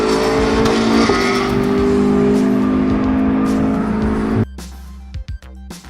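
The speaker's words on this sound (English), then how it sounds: "From up here in the grandstands, the cars don't pass so much as pour through." Race cars at Le Mans stream loudly past the grandstands in a dense, sustained engine roar with layered tones, cutting off abruptly into a quieter stretch with a few brief bursts.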